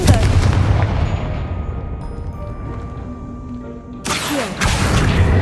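The Confringo blasting spell going off in Hogwarts Legacy, a loud fiery burst that fades into a ringing, shimmering tail. A second sharp blast follows about four seconds later, with no voices over it.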